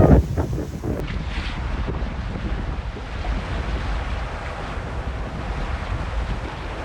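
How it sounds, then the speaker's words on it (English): A sailboat moves through waves in 15 knots of wind on open ocean, with a constant rushing of wind buffeting the microphone and water washing past the hull, loud and unbroken, with a brief knock at the start. "we're moving nicely on 15 knots of wind"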